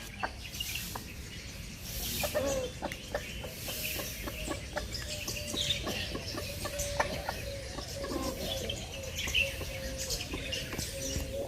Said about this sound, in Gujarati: તો કુકડાઓ માટે સરસ મજાનો નાસ્તો